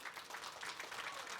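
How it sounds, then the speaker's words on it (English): Audience applause at the end of a talk at the 38C3 hacker conference: a faint, distant, washed-out patter of many hands clapping in a large hall, steady and short. "So, big applause for bleeptrack"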